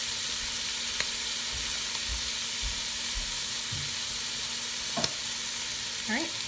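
A chickpea stew sizzles softly in a pot on the stove while being stirred, a faint steady hiss with a few light clinks and scrapes and a short voice near the end.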